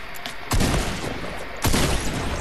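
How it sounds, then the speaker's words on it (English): Gunfire in Fortnite, loud sustained shooting with two sharper bursts standing out over a continuous clattering barrage, no talking. "Oh! I got shot."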